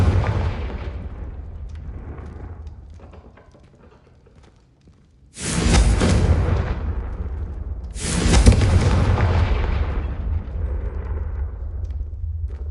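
Two loud blasting-curse explosions in Hogwarts Legacy, each a sudden broadband boom that decays over a couple of seconds, separated by about three seconds, following a quieter stretch of rumbling magical ambience.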